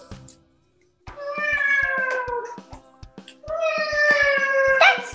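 A domestic cat lets out two long, drawn-out yowling meows, loud and close, separated by a short pause, while a steady ticking click runs underneath.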